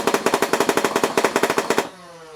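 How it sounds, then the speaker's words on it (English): A Nerf Rival Perses blaster fires a rapid burst of about sixteen evenly spaced, punchy shots, each a sharp whack, then stops abruptly and leaves a brief mechanical whir winding down. "So we'll get to our firing demo."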